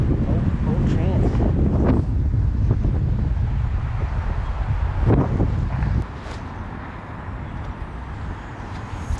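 Strong 32 mph wind gusts buffeting at Spoon Lake, a loud roaring rumble with gusty swells that drops in force near the end, with talk over it.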